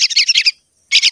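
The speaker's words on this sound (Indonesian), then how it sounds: "terpaksa saya juga harus bawa ini anak burung." A baby bird being hand-fed in a garden gives rapid, shrill begging chirps close up, a burst of repeated calls, a short pause, then more chirping.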